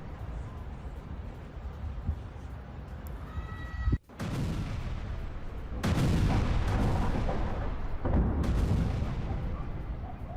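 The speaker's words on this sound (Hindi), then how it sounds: "बेरूत के 10 इलाकों में सुने गए धमाके।" Heavy booming blasts from Israeli missile strikes on Beirut, one sharp break near the middle followed by sustained rumbling roars, loud and continuous like distant explosions.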